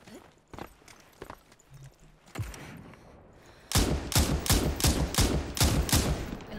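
Gunfire rings out in the Super People battle royale game, a few scattered shots at first, then a loud rapid burst of roughly eight evenly spaced shots close by.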